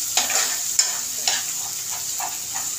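Finely chopped tomato frying with browned onion in a pan for a dried prawn curry, a soft steady sizzle broken by a few scraping stirs, close up and without talk.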